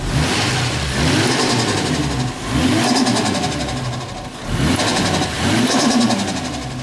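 A turbocharged Toyota JZX100 Chaser engine roars through repeated revs, rising and falling in three loud surges with an idle-like dip between each, close and unaccompanied by talk.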